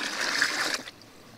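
Water pours into a camping washing machine in a steady close splashing stream for under a second, then stops, leaving a faint trickle.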